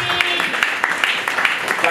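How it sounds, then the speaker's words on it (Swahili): An audience applauding at a ward gathering in Itigi, with steady, fairly loud clapping from many hands and sharper individual claps standing out through the two seconds. "Tumpigie makofi."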